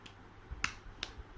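Two sharp, crisp hand slaps in quick succession, close by, like a high five, over a quiet background.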